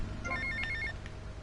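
A payphone rings in Grand Theft Auto: Vice City, a short electronic bell-like trill repeating several times over a steady low background hum, with no voices.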